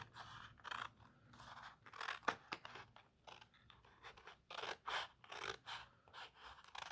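Scissors cut out a paper unicorn horn, a run of close, crisp snipping and rustling paper strokes in an irregular rhythm, with no voices.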